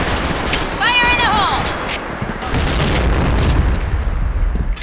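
A grenade goes off in a video game shooter with booming bursts, while players chatter over the action.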